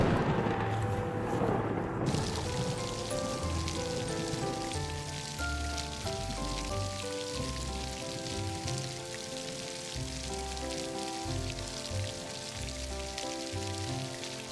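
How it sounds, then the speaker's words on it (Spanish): Rain patters steadily on a surface beneath soft, slow musical tones, a continuous wash of drops with no voices. "también me gusta la lluvia"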